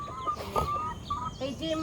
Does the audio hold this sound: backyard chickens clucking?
yes